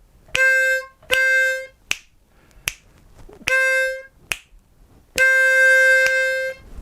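Short harmonica notes played in a rhythmic blues pattern, several sustained bends and quick punctuating stabs, with a longer held note at the end.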